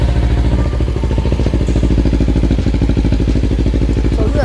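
Kawasaki Ninja 400 motorcycle engine running just after starting on an upgraded 12-cell anti-gravity battery, a loud, close, steady rapid low thumping idle with faint mechanical clatter.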